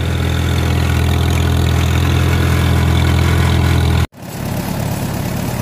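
A loud, steady tractor engine idling with a low rumbling throb close by, briefly cutting out near the end before the rumble resumes.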